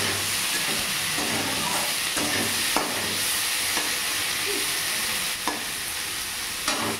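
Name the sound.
onion frying in pan with salt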